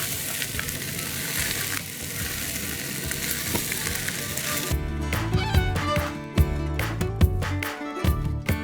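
Rice with sauce frying and being stirred in a pan, a steady loud sizzle that shifts partway through into scraping, clattering stirring strokes against the pan over continued sizzling.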